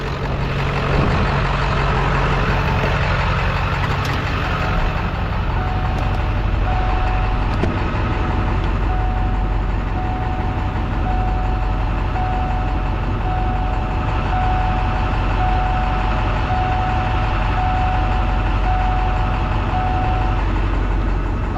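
A Ford 7.3 Powerstroke diesel truck engine idles with a steady, loud, continuous rumble and clatter up close, unbroken for the whole stretch.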